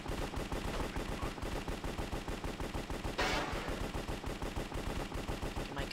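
Rapid automatic gunfire in a video game rattles out as an even, dense burst of shots that runs the full length. A brief hiss breaks in partway through.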